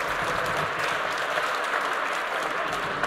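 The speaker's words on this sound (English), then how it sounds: "Even the staff are getting a big round of applause." Audience applause fills a hall at a college awards ceremony, a dense, steady wash of many hands clapping at an even level throughout, with no other sound standing out.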